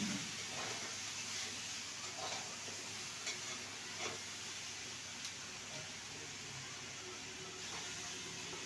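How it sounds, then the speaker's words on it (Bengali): Slit, washed green chilies hit a pan of hot oil, giving a steady, dense sizzle with a bright hiss and a few faint stirring taps, heard close and alone. "এবার দিয়ে দিলাম 5-6টা কাঁচা লঙ্কা চিড়ে ধুয়ে রেখেছিলাম"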